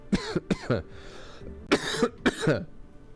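A few sharp, harsh coughs, one person clearing the throat in short voiced bursts close to the microphone, with quiet gaps between them.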